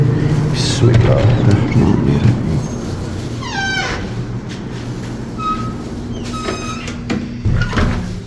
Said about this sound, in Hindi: दरवाज़ा खोलेंगे।